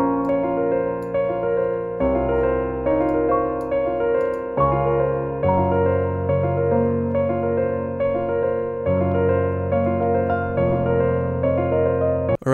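Layered piano chords with a melody line and added harmonic notes on top, part of a hard trap-style beat built in FL Studio, playing steadily and alone with chord changes every couple of seconds.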